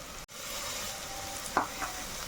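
Crushed ginger and garlic sizzle with onions in a hot pan, a steady close frying hiss broken by a few soft scrapes as a spoon stirs.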